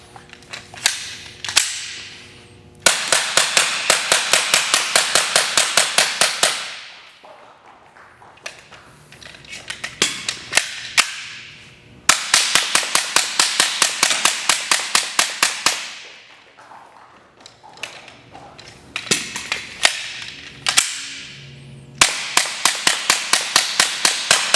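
Glock 9mm FX simulation gun fired in rapid strings through magazines 7 to 9, sharp cracks in fast regular bursts of several seconds separated by short pauses, loud and close with no talking.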